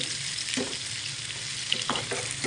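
Turmeric-coated fish frying in cooking oil hisses with a dense, steady sizzle, and a few soft stirring scrapes and pops rise briefly above it. No one speaks.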